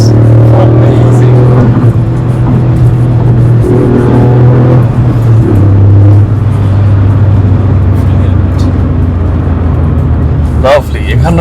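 A 2020 Toyota GR Yaris Morizo Selection engine pulls hard under acceleration, a loud, close engine drone that rises and holds steady for several seconds, with a voice talking over it.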